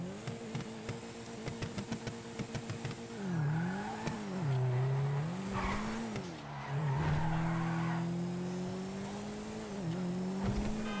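Canis Castigator SUV engine in a video game, starting with a rapid run of short clicks, then revving and pulling through several gear changes with rising and falling pitch, with a touch of tire noise, loud and close.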